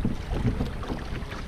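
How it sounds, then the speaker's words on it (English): Wind-buffeted splashing and knocking as someone climbs onto a kayak at the shore of Lake Tahoe, close and rough with water sloshing under steady microphone wind noise. "Getting on the kayak."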